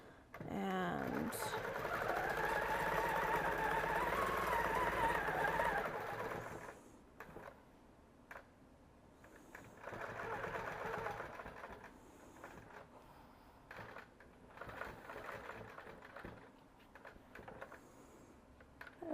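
Sewing machine stitching fabric runs steadily and fairly loud for about six seconds, then stops, followed by quieter handling noises and short bursts of renewed stitching later on.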